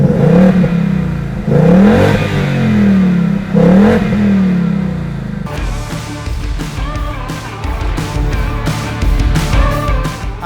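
A Ford Mustang Bullitt V8 revs repeatedly in deep rising and falling bursts through its four exhaust outlets, then settles into a rough, burbling idle with sharp crackles.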